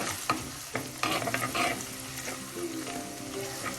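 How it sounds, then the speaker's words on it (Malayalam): Ginger and garlic paste sizzles softly in a pan, stirred with scraping strokes, as the base of a spicy fish chili curry is sautéed; quiet and close, with no talking. "ഇഞ്ചി വെളുത്തുള്ളി ചായച്ചത് ചെറുതായി ഒന്ന് വഴലുമ്പോൾ നമുക്ക് മറ്റ് ചേരുവകളൊക്കെ ചേർക്കാം"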